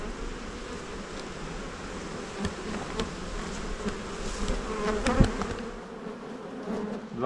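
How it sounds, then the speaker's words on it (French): A dense swarm of honeybees hums around brood frames in an open hive, a close, steady buzzing drone with wingbeats rising and falling and no voices. "Là tu vois c'est vraiment un bel essaim quoi."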